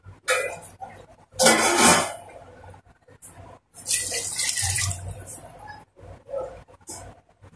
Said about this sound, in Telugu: ఇదిగోండి ఎసురు పోస్తుంది.